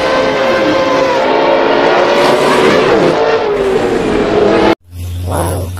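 A toy race car gives off a loud, continuous engine-like whine and revving buzz, then stops abruptly and leaves a low hum.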